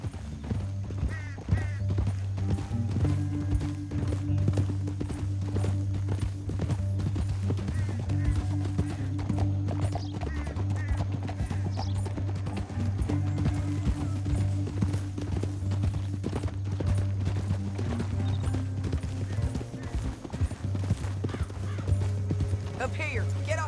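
Horse hooves clip-clop steadily through a Red Dead Redemption 2 canyon ride, a continuous rhythmic beat under a low music bed and occasional speaking voices.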